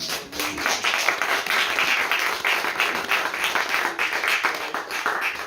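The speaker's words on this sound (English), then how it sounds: "Let's give him another round of applause." Audience applause fills a bookstore after a poetry reading, a dense, steady patter of many hands clapping throughout, fairly close and continuous with no talk over it.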